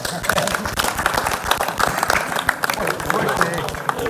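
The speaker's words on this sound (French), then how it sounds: "on peut l'applaudir" A burst of clapping from a small group at a judo session, dense and steady throughout, with some voices mixed in.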